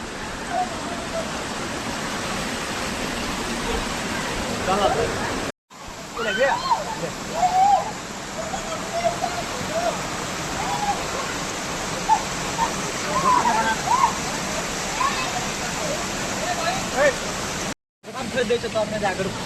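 The Kalitar waterfall in Sindhuli roars as a dense, steady rush of falling water, with voices talking faintly beneath it and two brief cuts in the sound.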